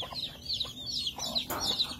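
Young chicks peeping and clucking in a rapid series of high, bright chirps, close by and fairly loud, with no voices over them.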